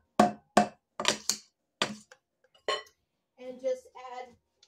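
A metal spoon clinks against a pot of still-warm candied fruit: four sharp, close clinks in quick succession, a pause, then a softer, ringing scrape and rattle.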